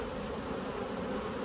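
Honey bees drone steadily on a brood comb lifted from a hive, a dense, close, continuous buzz of many insects with no voices.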